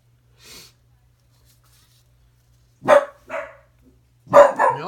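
A dog barks a few times nearby during an arts session, the short barks breaking up sparse background quiet while a person speaks.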